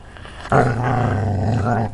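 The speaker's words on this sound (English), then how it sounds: "A low growl rumbled in his throat" A dog's low growl starts abruptly and rumbles on steadily for well over a second, loud and close, before easing off, with no talk.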